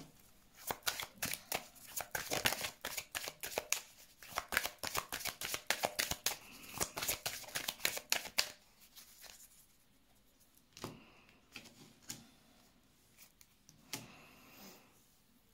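Tarot cards shuffled for a weekly reading, a dense run of quick riffling flicks and snaps for about eight seconds, then a few sparser card slaps and taps, close and alone with no talk.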